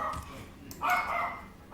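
An old dog barks loudly indoors, giving a short burst of barks over a quiet background.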